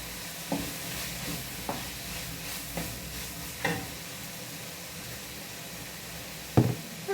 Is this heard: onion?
yes